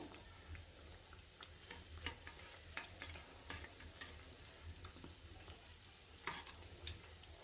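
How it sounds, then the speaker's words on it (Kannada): Badusha frying in oil, a faint, steady bubbling sizzle with scattered small pops and ticks throughout, distant and quiet with no voices. "ಎರಡು ಕಡೆಯೂ ಗೋಲ್ಡನ್ ಬ್ರೌನ್ ಬರೋವರೆಗೂ ಫ್ರೈ ಮಾಡಿ ತಗೊಳ್ಳೋಣ"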